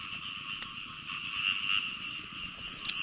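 Frogs croak in a dense, continuous chorus from flooded rice paddy water, a steady pulsing din that stays loud and close throughout with no voices.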